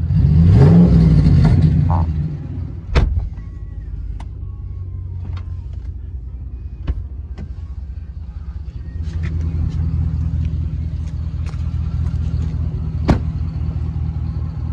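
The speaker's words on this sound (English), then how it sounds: "This truck's fairly loud." A 2017 Ram 1500 pickup's engine revs hard at close range, then drops to a steady low idle rumble with a few sharp clicks over it.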